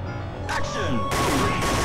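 Brief shooting in the arcade light-gun game Time Crisis, played on a PS1 emulator: a sharp burst of shots with crashing impacts over roughly two seconds, game music and effects underneath.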